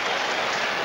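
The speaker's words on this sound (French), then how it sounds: "Applaudit le Pocket Rocket." A stadium crowd at a South Africa–New Zealand Tri Nations rugby test in 2003 claps for Brent Russell, a dense, even wash of distant applause that is steady throughout.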